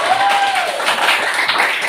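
Students in a classroom applaud together, a dense, steady burst of clapping that fills the room, with a brief whistling tone sliding through near the start.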